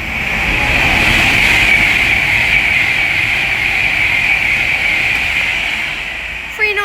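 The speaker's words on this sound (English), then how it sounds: "The next train to pass by is going to be an Avanti West Coast class 390 Pendolino from Manchester Piccadilly to London Euston." An Avanti West Coast class 390 Pendolino train travelling from Manchester Piccadilly to London Euston passes at speed on the West Coast Main Line at Leighton Buzzard, a loud, sustained roar and rushing hiss that holds steady before easing off at the end.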